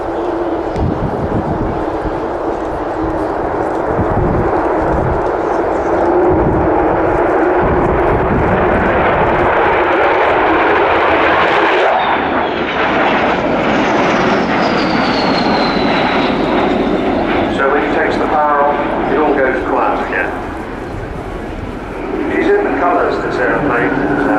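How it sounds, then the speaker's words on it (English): An Avro Vulcan XH558 bomber flying along the runway display line at an air show, its engines giving a loud sustained roar that shifts in tone as it passes, with a commentator talking over it. "So as Kev brings the Vulcan in along the runway, along the display line"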